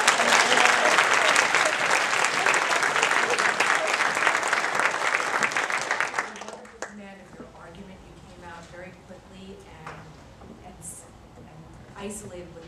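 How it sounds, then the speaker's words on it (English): An audience applauds the finalists of a first-year law school moot court competition, loud dense clapping for about six seconds that then drops away to a quiet room where a voice speaks. "you both deserve a huge round of applause"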